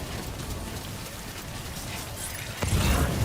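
Timefall rain in Death Stranding hisses steadily on the ground, a dense, even patter that grows heavier and closer near the end with a low thud.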